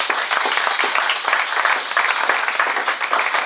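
Church congregation applauding during a French-language sermon, a dense, steady wash of clapping hands filling the whole stretch, loud and continuous with scattered sharper claps.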